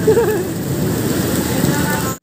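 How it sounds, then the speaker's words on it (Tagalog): Heavy rain pours down in a thunderstorm in the Philippines, a dense, continuous hiss of drops hitting surfaces, loud and steady until it cuts off abruptly at the end. "Ayun, lakas ang ulan"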